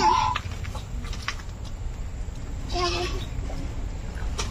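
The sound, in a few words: chickens clucking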